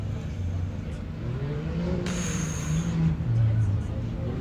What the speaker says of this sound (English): Looks like a Can-Am.